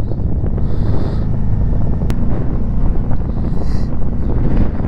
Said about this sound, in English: I'm feeling that wind